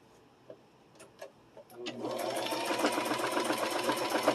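Sewing machine back stitching fabric: a few soft clicks, then the motor starts and runs steadily and close for a couple of seconds at a fast, even stitching rhythm.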